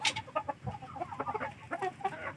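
Chickens in a backyard breeding pen give soft, scattered clucks and low calls throughout, moderately faint, with no talking.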